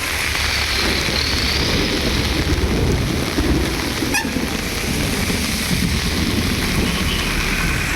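Heavy rain driven by strong wind pours down in a steady, dense roar that holds at full strength throughout, with a brief faint crackle about halfway. The downpour lasted over an hour around the Palani and Kodaikanal area, and no voices are heard.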